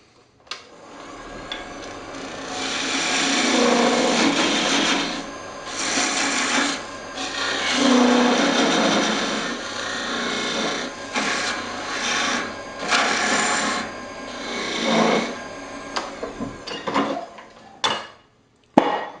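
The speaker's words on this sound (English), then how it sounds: "I'm just gonna sand it and then take it off" Sandpaper rasps against a spinning maple and walnut turning on a wood lathe, a steady scratchy hiss over the motor hum that swells and eases in long passes for most of the stretch, stopping near the end.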